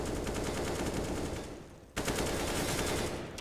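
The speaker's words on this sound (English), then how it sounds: "The wallbang, he knows Kicker wants him" Automatic gunfire shot through a wall in a CS:GO match rattles in a dense, loud burst, breaks for a split second, then resumes as a second rapid volley.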